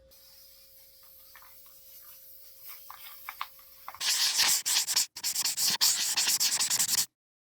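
Light hand sanding of a wooden dresser with 220-grit sandpaper: quiet scattered scratches at first, then a close, loud run of rapid back-and-forth rasping strokes with one brief pause, ending abruptly.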